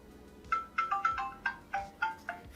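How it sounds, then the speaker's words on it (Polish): Mobile phone ringtone for an incoming call, played through a multimedia CarPlay station: a loud, bright melodic pattern of quick repeated tones in a steady rhythm, heard alone and close. "Pokażę Wam, jak to by wyglądało, jak ktoś zadzwoni do mnie na komórę."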